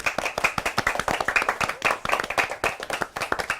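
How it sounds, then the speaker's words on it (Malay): An audience claps in a steady, brisk rhythm, many hands together, loud and close, with faint voices mixed under the clapping. "Tepuk tangan semua."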